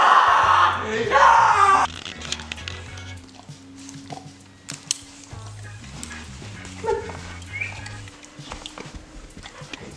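A dog barks, yips and whimpers in a tug-of-war over a stuffed animal, loud and close in bursts, with strained vocal cries and scattered shouts and scuffling around it.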